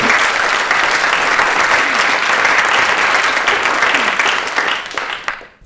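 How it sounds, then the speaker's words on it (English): An audience at an arts event on ethics and funding applauds the brave people just named, a dense, steady wash of many hands clapping that holds for several seconds, then thins and fades out at the end. "Round of applause for brave people."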